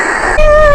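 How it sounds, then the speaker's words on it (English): A radiator in a movie scene makes noise as the heat comes on: a brief hissy rush that shifts into a steady, sustained whistling hum, loud and close. "It's a radiator. It makes noise when the heat comes on."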